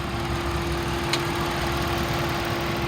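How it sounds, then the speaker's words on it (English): Steady, droning idle from the engine of a 2013 Ford Taurus Police Interceptor AWD with front-end collision damage, a loud, even hum with a constant low tone and one brief tick partway through. "Motor sounds good."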